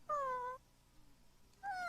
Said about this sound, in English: A cat had some kittens in the basement of our building.